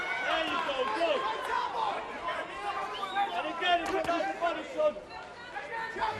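Crowd at a boxing arena during a professional bout, a steady murmur of chatter and shouting with occasional louder yells, while a commentator talks over it.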